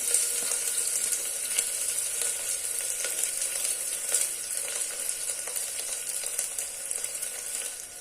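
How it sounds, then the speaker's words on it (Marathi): Sliced onion frying in hot oil for mutton biryani, a steady close sizzle holding at even strength throughout with faint stirring, no voices. "हा कांदा आपल्याला व्यवस्थितपणे परतून घ्यायचा आहे"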